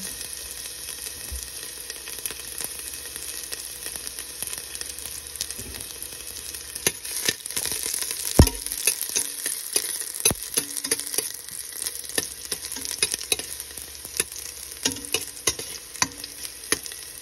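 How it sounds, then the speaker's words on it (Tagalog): Cooking oil heating in a pan before frying tilapia, giving a steady bright hiss with scattered sharp pops and crackles that grow busier over time. "painit muna natin tong mantika"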